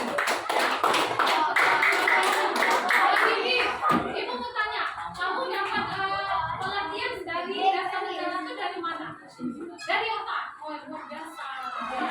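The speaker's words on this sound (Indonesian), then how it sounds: "tepuk tangan buat Bibi" A school class applauds, many children clapping hands together in a dense, loud burst that fades into scattered claps while children chatter and talk over it.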